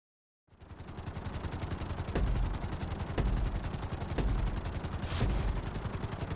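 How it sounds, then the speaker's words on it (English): A helicopter in the video game GTA 5 runs steadily after a short silent start, its rotor chop loud and continuous with thumping surges every second or so and no talk over it. "we'll see how well you handle the chopper"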